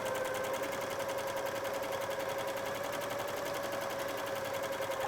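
A cover stitch sewing machine running steadily at a 3mm stitch length, a continuous fast mechanical whir and rapid needle chatter with a steady hum, close and even for the whole stretch with no voices.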